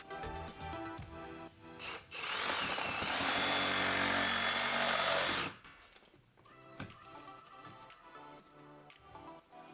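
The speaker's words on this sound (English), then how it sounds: "now I'm going to be using my Milwaukee Fuel Sawzall with good old Milwaukee blade in it" A Milwaukee Fuel Sawzall reciprocating saw with a Milwaukee blade cuts into sheetrock wall in a loud, buzzing burst of a few seconds, surrounded by quieter handling and scraping noises.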